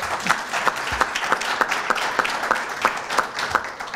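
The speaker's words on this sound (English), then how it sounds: "A round of applause." Applause for elected officials at a community meeting on human trafficking, a modest crowd clapping with distinct individual claps audible, steady and fairly close without much swell.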